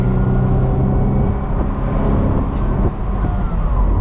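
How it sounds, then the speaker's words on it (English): A 1998 Mercedes-Benz SLK 230 with no exhaust resonator revs from inside the car, a loud, steady, deep engine and exhaust drone holding for several seconds with a brief dip partway through. "I believe this car doesn't come with a resonator, so it has a nice deep tone to it"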